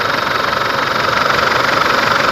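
A Chevrolet Colorado pickup truck engine idling close by, a constant droning rumble with a faint rhythmic knock, no voices.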